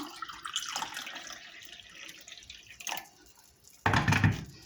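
Water poured onto sugar in a pan for meringue syrup, a short trickling pour, then a brief splash and a louder burst of running water at the end, close and fairly faint.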